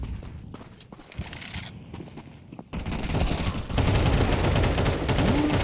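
Rapid automatic FAMAS fire in Counter-Strike on the Inferno map, an esports match, rattles through as dense continuous bursts after a quieter start with footsteps, loud and close, with game audio throughout.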